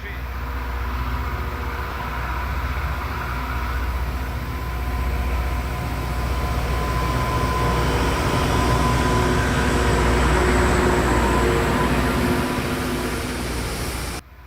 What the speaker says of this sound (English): this is a rail grinding machine, designed to smooth the rails and remove surface defects as it moves